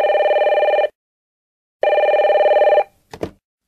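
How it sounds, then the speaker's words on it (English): A telephone rings in two long electronic bursts separated by a pause, loud and close, followed by a brief clatter as the receiver is picked up; no talking. "John, why didn't you pick up the phone? I kept calling you."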